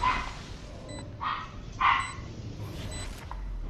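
A puppy barks in a few short, sharp yips spread across a few seconds, heard over the steady background hum of a gaming setup.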